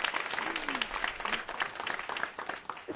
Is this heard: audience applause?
yes